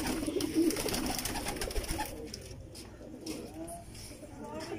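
Pigeons of a prized rare breed coo softly in a loft, repeated throaty calls in the first half, while someone talks nearby.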